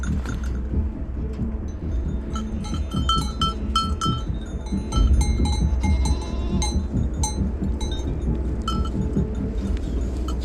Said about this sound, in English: we came across this cracking little herd of goats